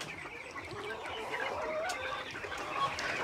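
Chickens on a small farm cluck softly and continuously at moderate distance, a low murmur of fowl with occasional higher calls.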